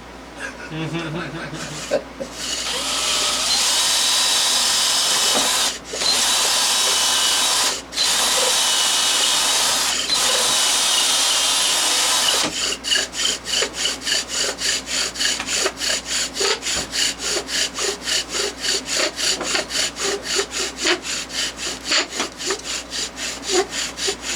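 Bow drill spins against poplar wood, first as a continuous harsh grinding rasp broken by brief pauses, then as a fast, rhythmic back-and-forth scraping that keeps going steadily to the end.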